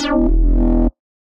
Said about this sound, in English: on the effects, we're just going to use a soft clipping instead of tube distortion